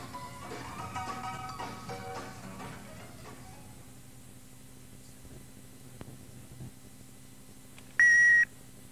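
A single electronic answering machine beep, bright and steady, sounding clearly for about half a second near the end after a stretch of faint background hiss and a few soft tones.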